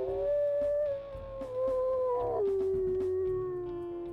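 A single long, deep wolf howl from the WolfQuest video game, loud and close, holding a steady tone before sliding lower and trailing off.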